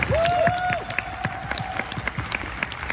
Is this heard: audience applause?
yes